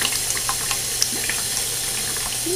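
Water gushes steadily from the spout of an opened stop tap while its head is unscrewed, a constant close hissing rush with faint splashes and no voices.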